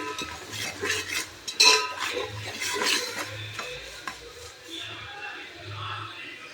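Ginger garlic paste is stirred in a hot pan for Chettinad chicken biryani, a spoon scraping and clinking against the metal in uneven strokes over a soft sizzle, with someone speaking intermittently.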